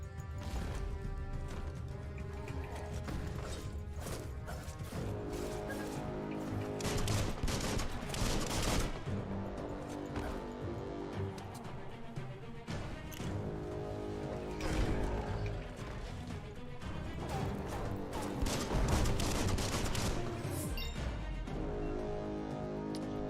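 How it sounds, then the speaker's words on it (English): Sustained volleys of gunfire and bullets flying in the video game Biomutant, dense overlapping shots with crashes and impacts, loud and continuous throughout. "Bullets everywhere."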